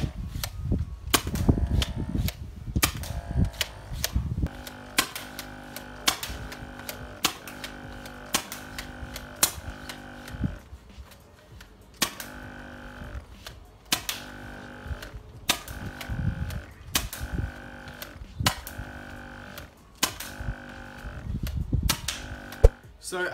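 Custom HPA-powered Nerf Caliburn blaster firing darts at over 300 FPS, sharp rapid pneumatic snaps in quick bursts and volleys, loud and close, with short gaps between strings of shots.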